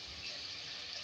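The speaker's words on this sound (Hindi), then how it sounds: "अपनी ग्रेवी के हिसाब से 1 गिलास इसमें मैं पानी ऐड कर रही हूँ।" Water from a glass poured into a pot of Bengali chicken and potato curry gravy, a soft, faint, steady splashing hiss lasting about a second.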